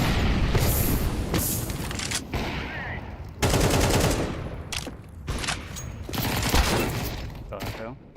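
A flashbang grenade and rapid gunfire burst loudly in a Counter-Strike 2 match, with sharp repeated blasts and rattling shots in quick succession, while voices talk over the action.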